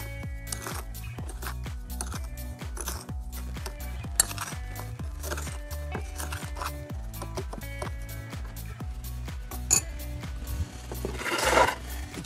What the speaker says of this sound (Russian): И все хорошо перемешаем.